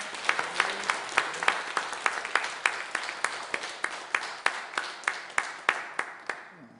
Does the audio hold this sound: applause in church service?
yes